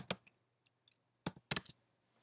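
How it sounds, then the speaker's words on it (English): Light typing on a computer keyboard: a few sparse, crisp key clicks, then a quick cluster of two or three keystrokes, in an otherwise quiet room. "So let's go ahead and type in"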